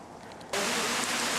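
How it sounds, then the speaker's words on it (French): Rain pouring down in Prague beside a parking lot full of cars, starting abruptly as a dense, steady broadband hiss that stays loud and even to the end, with no talking. "Et il pleut."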